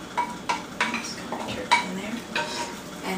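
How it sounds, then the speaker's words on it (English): Diced onion tumbling onto ground turkey in a pot, with a spoon scraping and knocking against the pot in a steady series of clinks and taps, close and fairly loud over a soft sizzle. "all I'm going to add to it is a cup of diced onion"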